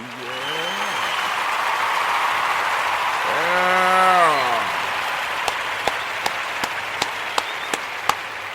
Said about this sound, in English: I want to give all of the Kuumba babies a round of applause